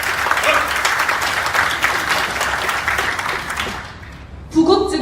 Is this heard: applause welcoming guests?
yes